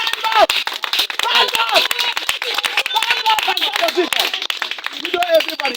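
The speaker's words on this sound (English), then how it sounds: "can you clap for Jesus?" A church congregation claps for Jesus, dense loud rhythmic clapping from many hands mixed with shouting and singing voices throughout.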